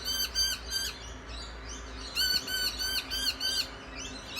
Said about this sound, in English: Charlie, because that's what usually happens when the Mickey birds go off their brains